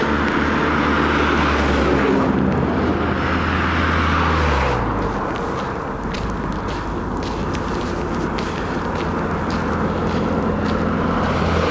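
Car traffic passing on a road, a steady rumbling whoosh with one vehicle's engine note sweeping down partway through, then continuing road noise.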